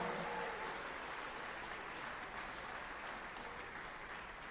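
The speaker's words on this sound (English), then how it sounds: "Let's give all, you ready for this? 42 people a big round of applause." A gala audience applauds steadily throughout, a dense wash of clapping at moderate distance that fades slightly toward the end.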